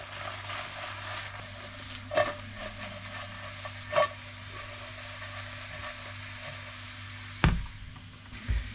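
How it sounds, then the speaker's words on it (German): Steady low sizzle of potatoes frying in a pan, with a few scraping stirs and clanks punctuating the continuous hiss; no talking. "Und jetzt lassen wir die Kartoffeln"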